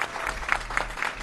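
A rally crowd claps steadily, a dense wash of many hands with regular louder swells, heard alone and fairly close.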